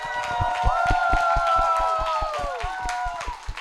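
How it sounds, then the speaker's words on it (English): A small gathering applauds the panelists at a community climate discussion, with distinct separate claps and light cheering under tonal voices and a sustained whistle-like sound. "Can I get a round of applause for them?"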